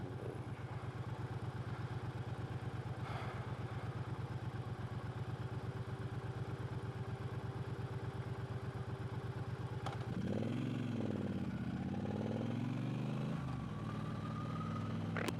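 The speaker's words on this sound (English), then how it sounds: "this bike does pump out a hell of a lot of heat when it's at standstill and the engine's chugging along, ticking over" A 2022 Triumph Bobber motorcycle idles at a standstill, its engine chugging in a steady, even low throb. Near the end the tone shifts and wavers as the engine note rises and falls briefly over faint background noise.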